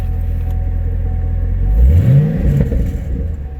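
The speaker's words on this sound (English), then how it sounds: "Let's do a little revving the engine." A 2014 Chevrolet Camaro ZL1 idles with a deep rumble, then its engine revs up in a loud, close rising roar and settles back down.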